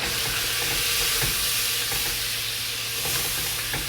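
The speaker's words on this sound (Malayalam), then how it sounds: "ഉപ്പ് മസാലകളെല്ലാം കൂടെ ഇട്ട് കൊടുക്കുക നന്നായിട്ടൊന്നുണ്ട് മിക്സ് ആക്കുക" Chicken pieces tossed with salt and spices in a pot while cooking machboos, giving a loud, continuous sizzle with repeated soft stirring scrapes throughout and no talking.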